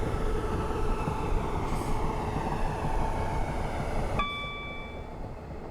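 Train in Train Simulator Classic on a suburban Glasgow line, a loud continuous rumble of passing rolling stock that cuts off abruptly near the end, leaving a faint ringing tone and quiet cab ambience.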